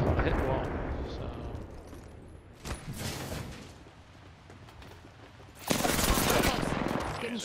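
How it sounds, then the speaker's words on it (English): Gunfire crackles through a Battle Royale video game match (Broken Relay), with bursts of rapid automatic shots and loud bangs that come and go over about seven seconds, sharpest near the end. "Getting shot at."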